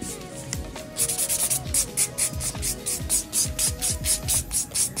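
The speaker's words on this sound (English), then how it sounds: "And then we go ahead and buff it using our buffer of 100 to 180 grits." Nails buffed with the soft side of a 100/180 grit buffer after a smooth dip powder application: close, rhythmic rasping strokes, about two per second, repeating evenly with no talking.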